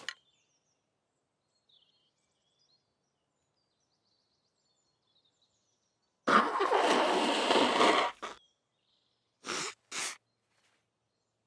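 A cartoon dog gives a sudden sneeze, a short burst of breathy noise lasting about two seconds out of near silence, followed by two brief sniffly sounds.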